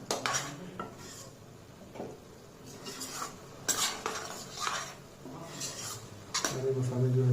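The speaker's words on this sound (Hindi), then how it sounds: "यहाँ पर आप देख रहे होंगे कि अब हमें इस मसाले को भूनना है।" Spice masala roasts in a pan under repeated stirring, with spoon scrapes and clanks against the metal over a low sizzle, then a louder pan sound at the end.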